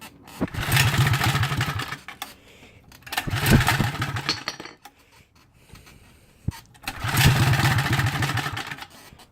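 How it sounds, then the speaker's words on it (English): Mini chopper motorcycle engine on a home-built bike cranking and firing in three loud, rough bursts of revving, each about two seconds long, separated by brief quieter idle-like gaps, close by. "Let me just fire it up real quick for you guys."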